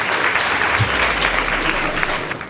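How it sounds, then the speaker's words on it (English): Audience at a school debate competition applauds, a steady dense clapping from a crowd filling the whole short stretch with faint voices underneath. "Please give them a warm round of applause."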